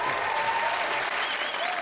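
A studio audience at a comedy panel show applauds in a steady, full round of clapping that holds evenly throughout. Faint voices murmur beneath it.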